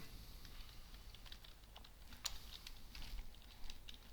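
Quiet, rapid tapping on a computer keyboard, a soft patter of keystrokes with one sharper clack midway, close and alone.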